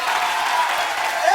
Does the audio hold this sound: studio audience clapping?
yes